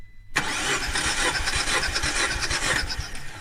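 A 1.6 THP car engine cranks continuously on the starter during a compression test, a loud, steady whirring rasp with rhythmic pulses, no talking over it.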